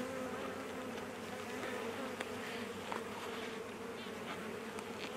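Dense, steady buzzing of many honey bees close up at the hive, a continuous droning hum with no voices.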